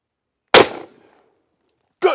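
Two loud, sharp gunshots from a Cimarron Bad Boy .44 Magnum revolver with an 8-inch barrel firing 180-grain rounds at an outdoor range, each a close crack with a brief decaying tail, about one and a half seconds apart.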